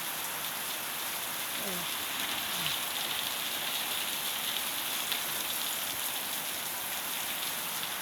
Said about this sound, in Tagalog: Lakas talaga ng ulan, ha?